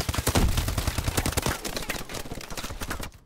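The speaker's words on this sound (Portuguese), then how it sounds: "pela quantidade de tiro ali que eu acertei no cara, tinha que ter matado" Rapid automatic gunfire crackles in a burst-heavy online match of Call of Duty: Advanced Warfare, the dense shots loud and close, tapering off near the end.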